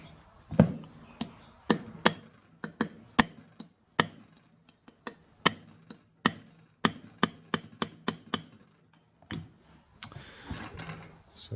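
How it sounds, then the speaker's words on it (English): A small pin punch gently taps a shaft nut on a Colchester lathe clutch: a quiet, uneven series of sharp metallic ticks and knocks, some in quick clusters, heard close with little else in the background. "I'm just going to get in there with a little pin punch very gently and give that a tap"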